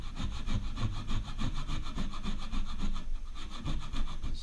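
A hand saw cuts through wood for a foundry pattern, with steady back-and-forth rasping strokes, close and moderately loud, continuing evenly throughout with no talking.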